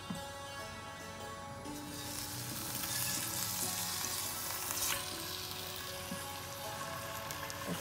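Fish seared briefly in a hot pan for a steamed fish wrap: a loud, continuous sizzle that swells after the first moments and holds steady with light crackle, no voices.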